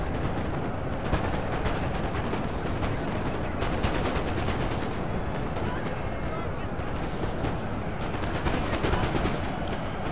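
Dense, continuous crackle of massed rifle fire from mounted rifles in a Total War battle, with rapid overlapping shots throughout and speech mixed in underneath.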